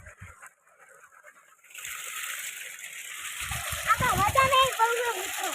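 Irrigation water flows and splashes across a field, starting quietly and swelling into a steady, loud rush with sloshing bursts, while voices talk over it.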